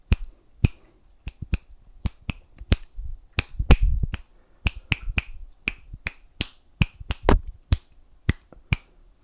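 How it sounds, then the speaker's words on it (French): Sharp, crisp finger snaps, about two dozen of them, close and isolated against near silence, coming in an irregular rhythm with some quick pairs and short pauses between. "avec les claquements de doigts"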